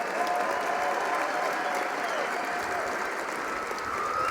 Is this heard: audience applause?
yes